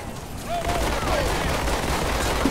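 Gunfire from the Halo 2 video game, a steady dense roar of shots filling the short stretch at constant loudness, with a tonal sweep early on and no clear talk over it.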